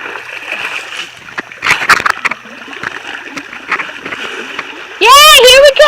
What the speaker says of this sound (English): the flood effect is about to take place